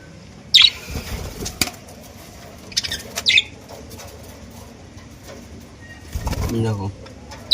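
Budgerigars in a colony cage, brief bursts of wing flapping and fluttering at close range with a few short chirps between quieter stretches, and a person talking.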